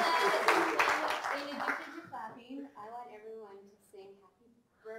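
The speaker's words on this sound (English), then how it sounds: "Do you mind clapping a little?" An audience at a talk on fisheries claps for a couple of seconds, a dense patter that fades out, followed by someone speaking alone.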